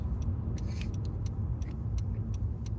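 A car goes by on the road, a steady low rumble holding at an even level throughout, with faint ticking in the background and no talk over it.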